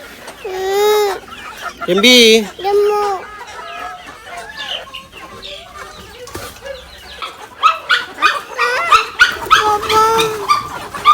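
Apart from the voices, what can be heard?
hens clucking while being fed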